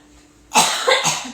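A single close, loud cough bursts out after a brief quiet moment, trailing off with a short rough follow-up.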